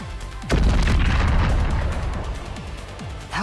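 A heavy bomb blast erupts in Goddess of Victory NIKKE, a loud sudden boom with deep rumbling debris that slowly decays, followed by a few smaller thuds and pops near the end.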